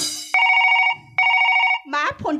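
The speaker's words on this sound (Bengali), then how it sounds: "মা ফোনটা এসেছে, ফোনটা ধরো।" Telephone bell ringing in two long bursts with a pause between, loud and close, during a comic Gajon folk performance about an election, followed by a voice speaking.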